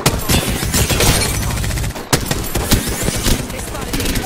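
Rapid bursts of gunfire from the battle game Apex Legends, loud and dense throughout, with repeated shots layered over a busy mix and a short break near the middle.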